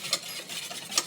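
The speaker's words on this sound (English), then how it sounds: "we're going to cook it on medium heat, stirring it constantly so it doesn't stick" A spoon stirring pumpkin pie filling in a pan over medium heat on the hob, soft scraping with two brief sharper clinks against the pan, quiet and close.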